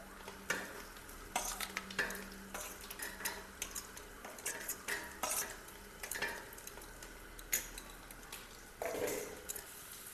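Chicken in a pot being stirred and fried with cumin and chili paste: soft sizzling under repeated scrapes and clinks of a spoon against the pot, close and fairly quiet, with no talk.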